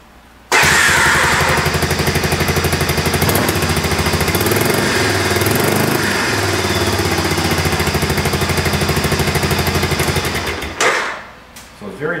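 A motor fitted with a new muffler starts up and runs steadily at close range, a loud continuous mechanical drone with dense harmonic rumble for about ten seconds before cutting off.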